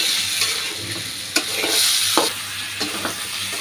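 Okra (lady's finger) with egg frying in a pan, a loud continuous sizzle with a few sharp scrapes and knocks of a stirring spatula, close up and without any talk.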